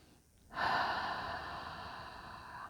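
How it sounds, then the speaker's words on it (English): A long, deep breath drawn in and slowly let out, a steady airy rush that swells after a brief quiet start and holds for a couple of seconds, close and fairly loud, with no talking. "Breathe deep, breathe long."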